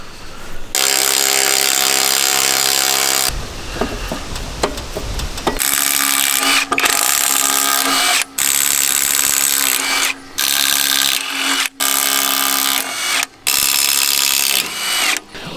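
Loud, continuous power-tool whirring with a rough grinding edge while removing a car wheel, broken by a few brief pauses and a noisier rattling stretch near the start; no talking.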